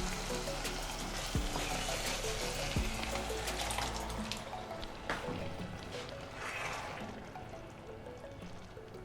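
Chopped tomatoes going into a pan to fry for a tomato sauce, giving a soft continuous hiss and sizzle with a couple of dull knocks early on, heard up close and fairly faint.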